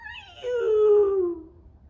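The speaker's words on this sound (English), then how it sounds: "the eerie howls coming from the forest" A single mournful howl rises and then slides downward, fading out over about a second.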